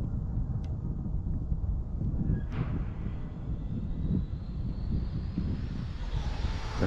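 An Arrma Typhon 6S RC car running on a 4S battery makes a speed run pass outdoors. A steady roar with wind noise builds into a rising high-pitched motor whine as the car winds out.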